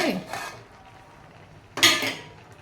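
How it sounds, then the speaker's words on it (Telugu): Greens, tomatoes and green chillies being stirred in a cooking pot, with two clinks of a metal spoon against the pot, one at the start and a louder scrape later, close and with quiet gaps between. "ఇదంతా కూడా చక్కగా ఇలా కలపండి"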